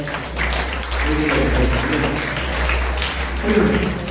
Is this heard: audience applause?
yes